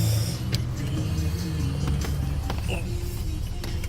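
A Range Rover Evoque pulls away with a steady, low engine rumble close by, a continuous drone with faint rattles and clicks and no speech over it.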